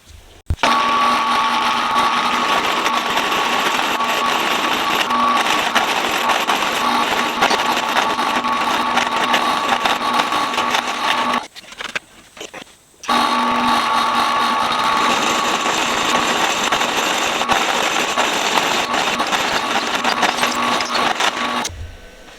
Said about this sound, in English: let's get to drilling out some bung holes.